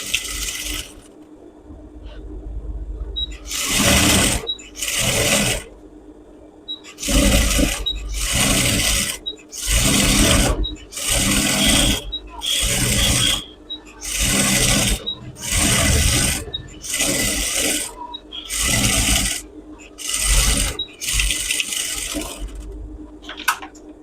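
A sewing machine stitches the edge of ladies' pants in repeated loud bursts of rapid whirring, each run lasting about a second with short pauses between, close up over a steady hum.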